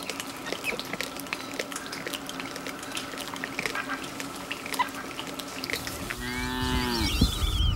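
Cattle low at about six seconds near the end, on a large Brazilian farm shared with capybaras and sugarcane, over a steady bed of outdoor ambience with faint background activity.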